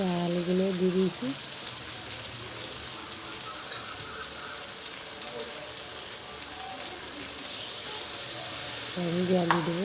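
Potatoes fry in hot oil for a chicken curry, giving a continuous crackling sizzle like rain on a surface, with brief spoken voice at the start and end.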